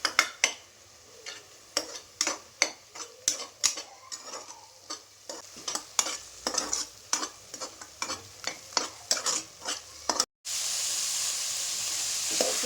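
Vegetables for pulao stirred in hot oil in a pan: a brisk rhythm of scraping, clinking spoon strokes over a soft sizzle, ending in a steady, louder frying hiss.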